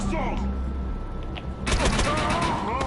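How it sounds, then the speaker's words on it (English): Shotgun fire in the video game Defiance: a sudden burst of loud, dense blasts erupts midway and continues to the end, following quieter game ambience with faint voice-like sounds. "Shotguns are a nightmare."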